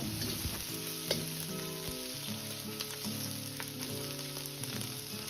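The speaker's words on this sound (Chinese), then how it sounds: "油热后倒入控干水分的肥肠煸炒" Drained pork intestines stir-fried in hot oil over medium heat, a steady close sizzle with crackling spits and occasional scraping of a spatula against the wok.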